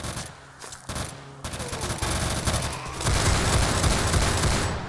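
Sniper rifle shots in the video game Roblox Zombie Uprising, heard as a dense, moderately loud barrage of repeated blasts that builds in intensity with no talk.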